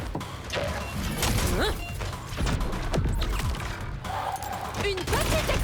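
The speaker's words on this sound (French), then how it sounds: "Une petite explosion." Small explosion in the video game Borderlands 4, heard as sharp crashes and thuds amid dense, busy gameplay audio with layered effects throughout.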